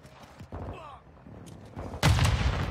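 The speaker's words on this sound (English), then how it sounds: "Hostile airstrike near your location." A hostile airstrike in Call of Duty Modern Warfare 2 arrives as scattered gunfire and clatter, then a sudden loud, heavy blast near the end rumbles on.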